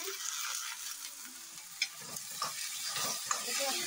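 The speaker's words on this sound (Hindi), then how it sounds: "इसे अच्छे से भून लेते हैं।" Ridge gourd peels fried with turmeric and chili over low heat, a steady close sizzle with occasional stirring scrapes and a couple of sharp clicks from the spoon, no talking.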